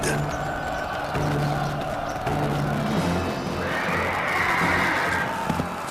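Horses of barbarian warriors neigh amid an ancient Roman battle scene, with a long whinny rising over steady low rumbling and scattered crowd noise.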